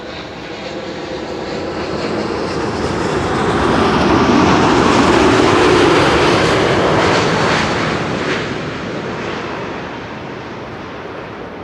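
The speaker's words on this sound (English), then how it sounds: "That's the Corendon World to Fly A350." A Corendon Airbus A350 landing at Amsterdam Schiphol roars past, its jet engines swelling from a distant rumble to a loud peak mid-pass before fading away, with no talk.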